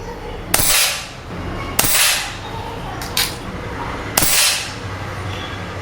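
Four sharp indoor shots from a PX100 air rifle, each a crisp crack followed by a short ringing tail, fired at uneven intervals about a second apart, loud and close.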